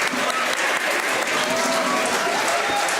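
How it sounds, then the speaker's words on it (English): Audience applause at a university physical education event at LPU: a dense, steady wash of many hands clapping together, loud and sustained for the full few seconds with no pause. "Please give a huge round of applause for this gentleman."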